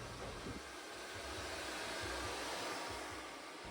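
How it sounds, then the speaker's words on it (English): A blow dryer fitted with a concentrator nozzle runs continuously close by while drying hair with a medium round brush, a loud, steady whooshing roar with a low motor hum and no speech. "I have a blow dryer nozzle put on my blow dryer."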